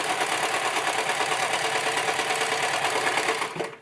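Sewing machine stitching a straight seam across a dress, a loud, close, steady motor whir with a fast needle patter running unbroken before easing off and stopping at the end.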